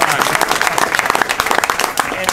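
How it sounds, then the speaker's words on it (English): Crowd applause breaks out at a partisan political event, loud continuous clapping throughout, with voices faintly mixed in. "That's an applause"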